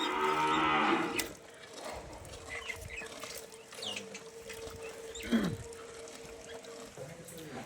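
Cattle on a farm selling Sahiwal, Nepali and Gir cows: a loud, close moo opens, followed by a long, steady lowing call and quieter farmyard noises, with muffled talk in the background.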